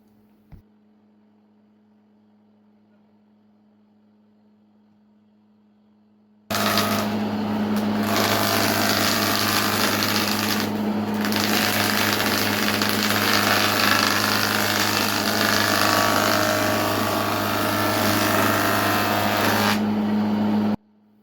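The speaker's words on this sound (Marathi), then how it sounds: "ह्या मशीनची विशेषता सांगायचं म्हणजे मशीनचं नाव आहे प्लेनर." Two-sided wood planer machine starts up after a quiet stretch and runs loud and steady at close range, with a constant motor drone, a harsh high cutting hiss and two brief dips as boards pass through.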